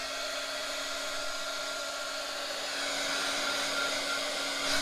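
A hair dryer blows steadily at close range, a constant whirring hiss with a high whine, growing slightly louder near the end.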